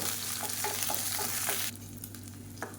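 Shallots sizzle and crackle in hot oil with steady frying hiss, interrupted by a few stirring clinks, then quieter sizzling continues.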